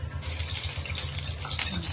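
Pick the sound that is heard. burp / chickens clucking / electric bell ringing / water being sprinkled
water being sprinkled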